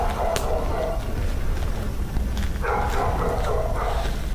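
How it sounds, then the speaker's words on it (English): Several dogs bark from inside a building, with muffled, distant-sounding yaps and bow-wows coming in bursts over a steady, noisy background rumble. "more dogs still barking from inside"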